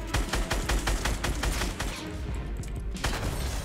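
Rapid bursts of gunfire crackle in a Fortnite Battle Royale match, several quick volleys in close succession that thin out toward the end, with no one talking over them.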